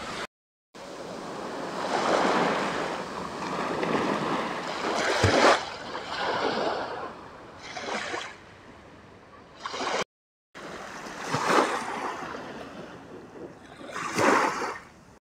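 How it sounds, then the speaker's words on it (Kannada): Ocean waves at Karwar beach, swelling and washing ashore in repeated surges, with a few louder crashes standing out over a steady wind-blown roar, close and fairly loud. "ಎಷ್ಟು ದೊಡ್ಡ ಅಲೆ ಬರ್ತಾಯಿದೆ ನೋಡಿ ಗುರು ಅಲ್ಲಿ"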